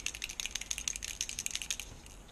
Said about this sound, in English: So you want to shake it up like a spray can.